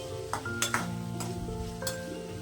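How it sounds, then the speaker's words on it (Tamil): Okra sautéing in oil for a tamarind kulambu, with a close sizzle under scraping spatula strokes and a few sharp clinks against the pan, without any talking. "அந்த எண்ணெயிலேயே நல்லா வதக்கி விட்டுக்கலாம்."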